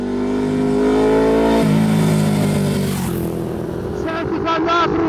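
A 2007 Bimota DB7 motorcycle engine revs hard on the throttle, a loud rising then falling engine note that fills the clip, with a couple of quick blips at the end.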